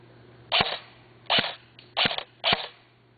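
Four crisp, fairly loud pops come from a D-boys M4 airsoft rifle with a high-capacity magazine, fired outdoors at a distant target near a tree in a light breeze, spaced about half a second to a second apart.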